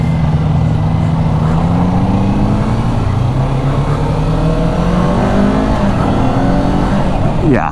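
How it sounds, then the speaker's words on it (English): A Kawasaki Ninja 400 motorcycle engine drones loudly and steadily while riding, its pitch rising gradually as it accelerates through the gears, with a brief squeal near the end. "Riding this again really makes me remember how much I loved my little Ninja 400."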